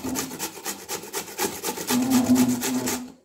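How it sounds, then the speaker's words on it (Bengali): A radish rubbed against a kitchen grater, repeated rhythmic rasping strokes about four per second, close and crisp, ending abruptly. "এইরকমভাবে ঘষে নিলেই কিন্তু খুব সহজেই মূলোটা যেভাবে রান্না করব সেটা রেডি হয়ে যাবে।"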